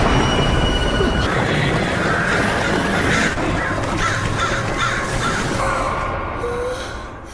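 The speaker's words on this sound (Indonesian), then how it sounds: "ia melihat seekor burung gagak muncul lagi" Crows caw in a few scattered calls over a steady, loud background rumble like a train on rails with faint wheel squeal, continuing for several seconds.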